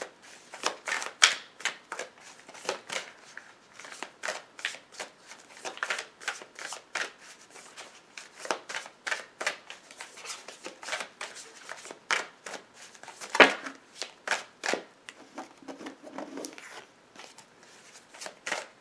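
Tarot cards are shuffled and drawn during a reading, a long run of crisp, close riffling and snapping card sounds in quick irregular bursts, with one sharper slap partway through and no talking.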